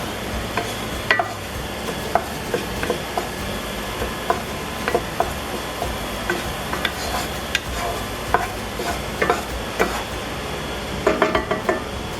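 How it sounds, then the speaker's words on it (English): Rhythmic scraping and clacking of a utensil stirring soup in a pot as milk is gradually mixed in, with a soft steady sizzle underneath and frequent close clinks against the pot. "I'm going to gradually stir in the milk."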